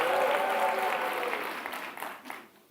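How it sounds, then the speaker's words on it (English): An audience at a closing ceremony applauds representatives of the Italian Space Agency, a full wash of clapping that thins and trails off over a couple of seconds, with a voice faintly audible at the start. "A round of applause for them."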